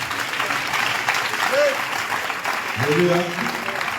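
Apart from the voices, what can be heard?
audience applauding and cheering for Jesus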